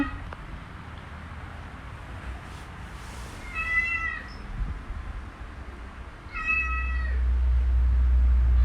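A Maine Coon cat meows twice, a few seconds apart, each call clear and fairly close over faint background rumble, with a low hum rising toward the end.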